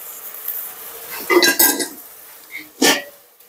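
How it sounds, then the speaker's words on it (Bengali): Spice masala being stirred and roasted in a pan, with a few scraping, clinking spoon strokes and soft sizzling in short bursts, close by. "মশলাটা কষিয়ে নিচ্ছি এখন"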